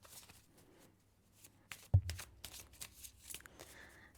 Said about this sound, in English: I'm going to pick 2 more cards before I close out.